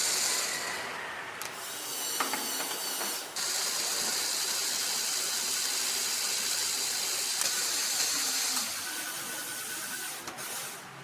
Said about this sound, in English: The gear mechanism performs beautifully